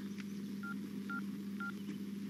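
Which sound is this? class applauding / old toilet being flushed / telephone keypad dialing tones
telephone keypad dialing tones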